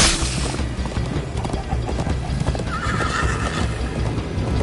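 A horse neighs and gallops in the Minecraft Story Mode video game, with rapid hoofbeats running throughout, a clear whinny partway through, and dense game sound beneath.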